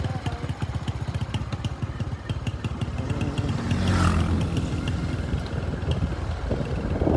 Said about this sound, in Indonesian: Nah ini Neng Yuli dibonceng pakai motor butut sahabat.